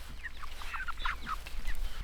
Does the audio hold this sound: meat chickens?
yes